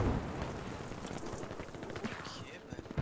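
Dense, continuous gunfire in a Battlefield V match, with rapid bursts of machine gun shots layered over battlefield noise for the whole stretch, a few sharper cracks near the end.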